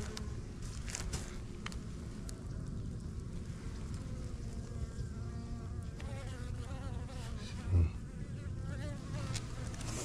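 A dense, continuous buzz of many honeybees fanning at the hive, humming close by near almond orchards after spraying, droning steadily with a brief thump partway through.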